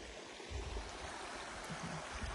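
Water runs steadily from an outdoor shower, a continuous splashing rush with no voices, close and even throughout.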